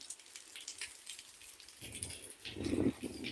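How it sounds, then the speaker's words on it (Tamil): Light rain falling outdoors in the Maldives, a steady soft patter of drops on surfaces that swells slightly toward the end, with no talking. "லைட்டாக இங்கே மழை பெய்யுது"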